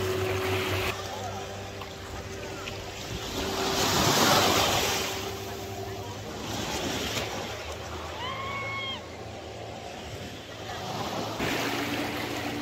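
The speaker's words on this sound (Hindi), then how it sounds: "Butterfly beach." Waves washing ashore at Butterfly Beach in Goa, a steady surf rush that swells and recedes, with wind noise on the microphone and faint background sounds.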